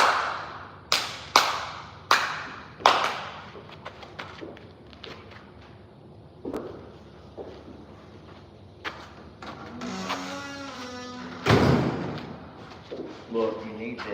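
Sharp hand claps set off a clap-on clap-off switch: four quick, loud claps near the start, then a voice speaking with scattered knocks and bumps.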